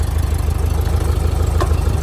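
A rebuilt Porsche 356 engine idles close by with a steady, rhythmic low chug and a faint mechanical tick, running alone without any voices.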